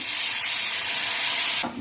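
Water poured into a pan of cooking raw mango chutney sets off a loud, close, continuous hissing sizzle that stops abruptly near the end.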